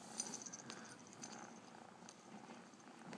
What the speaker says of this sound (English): This little kitty's a loving little thing.